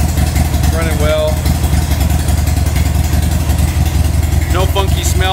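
A 2005 Buell XB9SX motorcycle engine idles steadily and loudly up close while warming up, running slightly rich, a continuous low rumble with a couple of brief higher whines riding over it.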